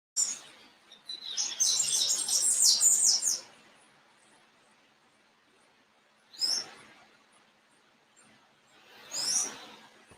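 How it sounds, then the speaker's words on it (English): Birds chirp in bright, high bursts: a long busy twittering at first, then two short calls after pauses, fairly close in a quiet setting. "I love the sounds of the birds as well."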